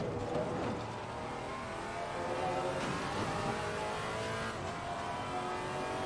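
A Maserati MC GT4 race car in Assetto Corsa Competizione, its engine revving hard and rising through the gears at a moderate, steady level, with faint tire noise and no speech.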